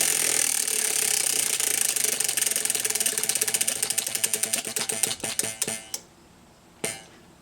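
A prize wheel spun by hand, its pointer ticking rapidly at first, then clicking more slowly and loudly as the wheel winds down, ending with a few spaced final clicks and a last tick after a brief pause.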